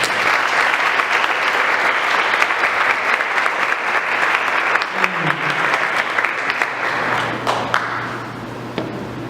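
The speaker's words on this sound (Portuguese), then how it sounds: "Quem crê nisso, aplauda o Senhor Jesus." A church congregation at a family worship service bursts into loud, dense clapping that holds steady for several seconds, then thins and fades toward the end.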